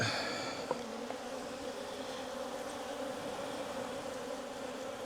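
A steady, dense buzz of many bees fills the whole clip, close and continuous, with a faint click near the start.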